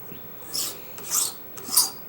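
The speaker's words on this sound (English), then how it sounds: "remember with the file, the teeth are only cutting as you're pushing on it on the forward push" A metal hand file rasps against a jewelry bezel around a cabochon, three distinct forward strokes with brief pauses between, close and alone.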